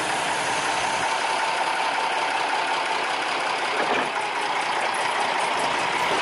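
A locomotive at the PG Kedawung sugar mill creeps slowly toward a curved track to collect lorry wagons loaded with sugarcane, giving a steady mid-pitched engine drone and rumble that stays even and near throughout, with no talk.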